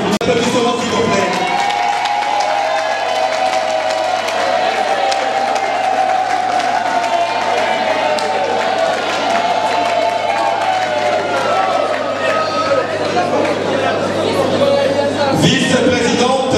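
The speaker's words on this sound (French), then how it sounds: "Applaudissements s'il vous plaît." A large audience bursts into sustained applause mixed with cheering and crowd murmur, loud and continuous, with voices in the mix before it cuts off near the end.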